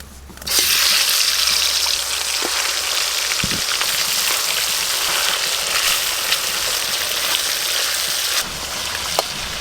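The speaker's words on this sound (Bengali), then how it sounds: "ওই আলু ভাজার তেলে মাছগুলো সব ভেজে নেব।" Pieces of stingray fish seasoned with turmeric sizzle in oil left over from frying potatoes, making a loud, steady, crackling hiss that runs throughout with a few sharper pops; no talking.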